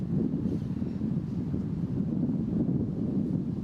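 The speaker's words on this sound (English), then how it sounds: "then it gets very gusty. You might get a wind change. Yeah, like we're seeing right now." Gusty wind on an outdoor disc golf course buffets the microphone as a loud, continuous low rumble that swells and eases, with no other sound standing out.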